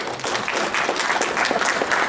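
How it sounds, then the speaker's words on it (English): Audience applause at a live event about creating cartoons, a steady wash of many hands clapping throughout, fairly loud and continuous with no clear speech on top. "Give her a round of applause"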